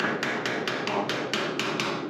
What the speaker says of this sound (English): I took the chisel and the hammer